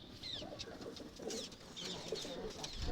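Pigeons kept in a cage with a front and back window coo softly several times, fairly faint and close, over a low background rumble.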